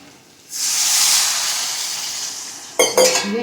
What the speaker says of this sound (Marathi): आपण पाणी घालूया